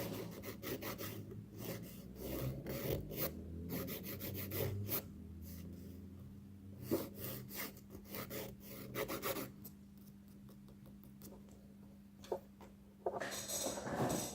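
Nail file rasping against dipping-powder nails during light refining with a 100-grit file, a steady run of short scraping strokes, close and fairly quiet, with no talking.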